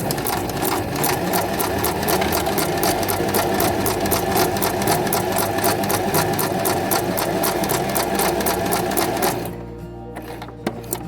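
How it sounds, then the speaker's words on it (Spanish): A sewing machine runs in straight stitch, sewing a zipper onto fabric with a rapid, steady needle chatter that is loud and close. It stops near the end, leaving a few quieter mechanical clicks. "Supongamos que tenemos el cierre por debajo de la tela, colocamos el pie posicionado y ahí, siempre en costura recta, vamos cosiendo nuestro cierre."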